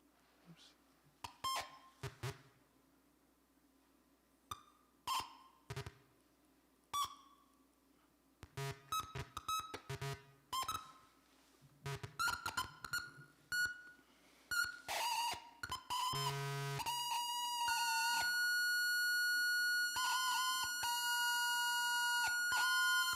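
A homemade circuit box shorted across its rails by a penny on edge gives off electronic tones: short, irregular beeps and bleeps at first, then a dense sustained multi-tone drone that holds loudly to the end.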